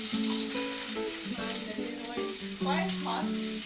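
Garlic and onion fry in a hot pan with a steady, soft sizzle throughout, partly masked by louder tonal background music.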